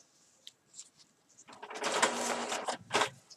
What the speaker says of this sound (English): Excuse my printer, printing away in the background there.